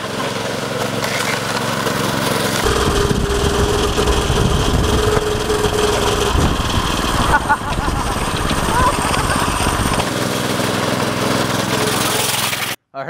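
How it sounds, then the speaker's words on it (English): A go-kart engine runs loudly and steadily, a throaty rattling drone that shifts in pitch as the kart is driven, with a brief voice over it before it cuts off at the end. "Figured why not give it a couple spins behind the go-kart."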